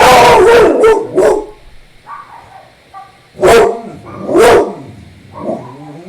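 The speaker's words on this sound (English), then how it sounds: "Oh god, my puppy's going crazy." A puppy barks repeatedly and excitedly in loud, close bursts, with yips and whimpering sounds between the barks indoors.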